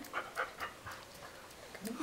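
A pet dog pants quickly and rhythmically close by, with short breathy puffs repeating steadily indoors.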